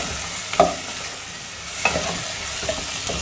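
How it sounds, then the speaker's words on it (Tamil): Capsicum stir-fried in a pan, a steady sizzle broken by a few spatula knocks and scrapes, close. "குடமிளகாய் போட்டு வதக்கலாம்."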